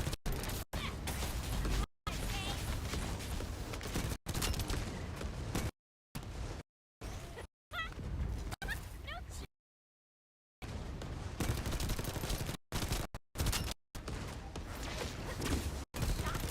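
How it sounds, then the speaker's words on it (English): An enemy in a video game fires a gamma ray weapon, heard as dense, loud, sustained blasting that cuts in and out in choppy bursts, with a voice talking over it at times. "Shooting its gamma ray."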